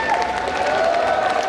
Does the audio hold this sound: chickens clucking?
no